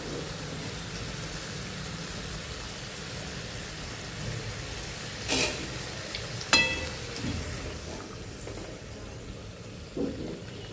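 French fries fry in a home kitchen pan of hot oil, a steady dense sizzle with a few sharper splatter pops as water spits.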